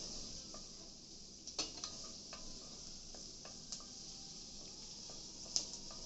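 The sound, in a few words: onions sautéing in a pan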